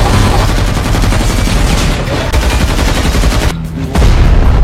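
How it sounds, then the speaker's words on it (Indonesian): A loud, close barrage of explosions and rapid gunfire rumbles on continuously, briefly dipping near the end before surging back. "Di sini Bradley dan Siti mendengar ledakan tersebut dan mulai panik saat melihat komplotan bertopeng tersebut"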